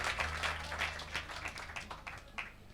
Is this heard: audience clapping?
yes